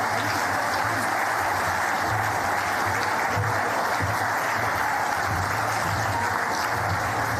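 Steady, dense applause from a crowd at a sports awards ceremony, loud and continuous throughout with a low background hum, following an award winner's thank-you speech.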